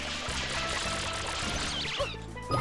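Water spraying from FLUDD in Super Mario Sunshine: a continuous rushing, pouring gush over a low droning game music bed, fairly even then briefly dropping near the end, moderately quiet with no talk.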